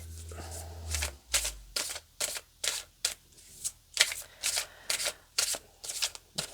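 A deck of cards handled and pulled out one after another, giving a series of crisp, close riffling flicks in an irregular rhythm with no speech over them.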